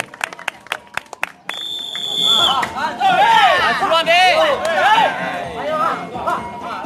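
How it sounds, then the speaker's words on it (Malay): Crowd applause and cheering at a sepak rago match as the Ruyung Putih team is introduced, a steady swell of clapping after a few sharp claps, with an announcer's voice over it. "Kita berikan tepuk tangan kepada tim Ruyung Putih."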